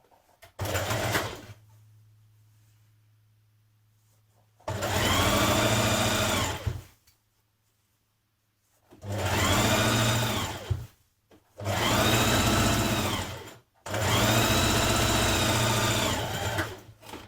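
A sewing machine stitches the side seam of a New Look 6035 skirt with a 1.5 cm seam allowance, running in four or five loud, steady bursts of a few seconds each with quiet pauses between.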